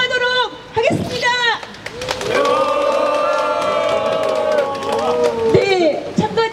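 Residents and civic groups in Haeryong-myeon, Suncheon, raise a loud shout at the opening of an outdoor protest press conference, a mass of voices swelling and holding together before trailing off.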